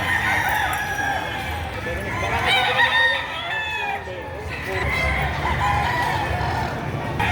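A rooster lets out a drawn-out crow amid clucking chickens at a poultry market in Padre Garcia, Batangas, with a steady farmyard background murmur throughout.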